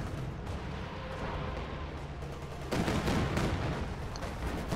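Machine-gun and artillery fire from a Company of Heroes 2 battle, a steady dense crackle of distant shots that grows louder and heavier partway through, with no talk.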